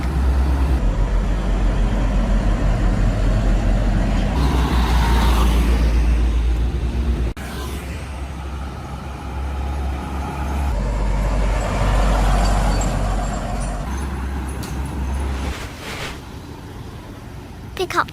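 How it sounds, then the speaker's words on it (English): Tanker truck driving past nearby, a loud, sustained low engine rumble with shifting gear-like changes and hissy broadband road noise throughout. "Tanker truck."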